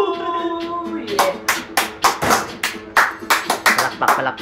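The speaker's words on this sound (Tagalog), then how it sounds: "Palakpak." Guests at a street birthday party clap in a quick burst of loud, close, sharp handclaps, irregular and overlapping, following a stretch of background chatter.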